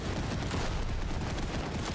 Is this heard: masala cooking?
no